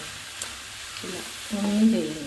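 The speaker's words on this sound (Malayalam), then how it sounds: "മഷ്റൂം ചേർക്കും മഷ്റൂം ചേർക്കുന്നു" Mushrooms tipped into a hot pan and sautéed, a soft sizzle rising as they hit the oil with light stirring, while voices talk over it.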